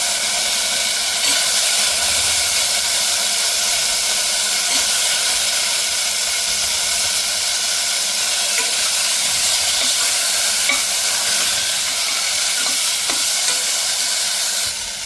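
Eggplant and potato pieces sizzle loudly in a pot with onion and roasted peanuts for a khichdi, giving a dense, steady hiss of frying. Faint scrapes of stirring show through now and then, with no one talking.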